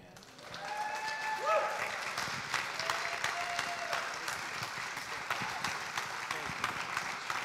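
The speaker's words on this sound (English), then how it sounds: "Let's give them another round of applause." Steady applause from a summit audience, many hands clapping together at moderate volume, with faint voices and a short whoop mixed in.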